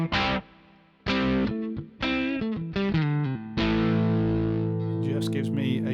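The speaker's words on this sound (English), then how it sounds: "So that's to give a nice little break-up distortion to my tone" An electric guitar plays through a break-up distortion pedal, giving a lightly gritty overdriven tone: several separate strummed chords with brief gaps, then a longer sustained chord that rings out and fades near the end.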